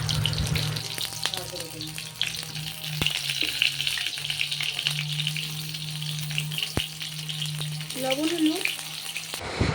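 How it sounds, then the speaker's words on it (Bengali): Soft, steady sizzling of pointed gourd frying in oil, with occasional clinks of a utensil against the pan and a low background hum. "আমি পটলগুলোকে ভালো করে ভেজে নিচ্ছি।"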